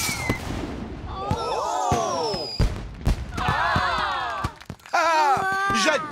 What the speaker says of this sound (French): Et maintenant, place au feu d'artifice géant.